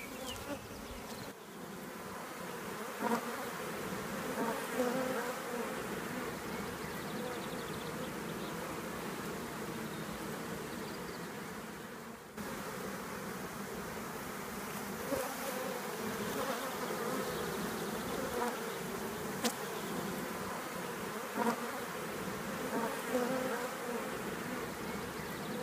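A honeybee colony in a cell builder hive hums with a dense, steady buzz, soft but continuous throughout, with occasional louder individual bees passing close.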